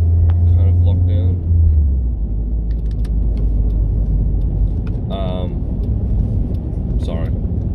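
A car engine rumbles low and steady while driving, a continuous road drone with faint higher clicks, accompanied by a person's voice talking over it.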